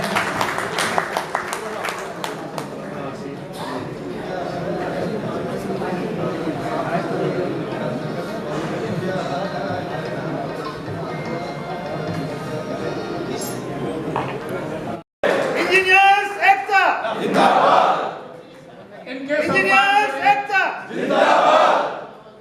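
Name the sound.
applause and cheering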